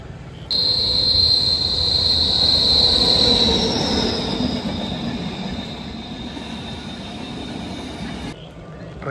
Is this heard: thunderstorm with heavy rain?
no